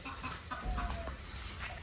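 Several village chickens cluck in short, soft bursts close by against a quiet outdoor background.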